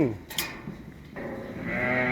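Sheep and young lambs on a farm pen, a nearby bleating call rising over steady low background noise, with a faint voice briefly under it.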